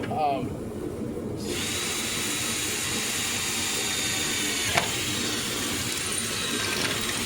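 An old Craftsman power drill starts up and runs continuously with a steady high whine, with one sharp click partway through.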